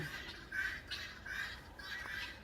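A male guinea fowl calls in a repeated harsh, squawking cry, three or four strained bursts in quick succession, moderately close and without talk.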